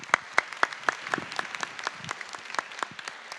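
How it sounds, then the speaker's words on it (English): Sparse applause from a small pharmacy conference audience thanking panelists, distinct individual claps in a loose rhythm, fairly close and modest in volume. "Thank you so kindly for our panelists, a big round of applause"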